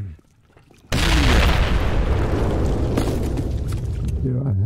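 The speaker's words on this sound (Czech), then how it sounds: "Jsou otřesy výbuchy" A deep, loud boom of an explosion bursts in suddenly after a quiet moment, then a sustained roaring rumble of blast and tremor lingers for several seconds, with a voice speaking over it.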